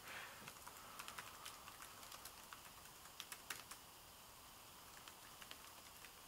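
Someone types on a wireless keyboard paired with an iPad, producing faint, sparse key clicks in a quiet room with soft background hiss.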